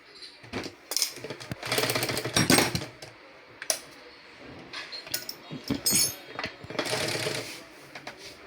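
A repaired, freshly serviced sewing machine runs in several bursts of rapid mechanical clatter with brief pauses between, fairly close and moderately loud, with light metallic clinks.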